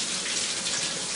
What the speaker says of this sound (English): Okay, let's drain. I'll pour that into one of these aluminum